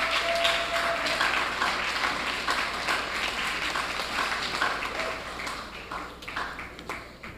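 Audience applause at an education event, a dense round of many hands clapping that starts strong and slowly thins and fades over several seconds, with no voices over it.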